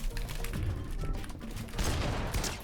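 Gunfire in the Fortnite video game cracks out in quick, uneven bursts of shots, fairly quiet and close.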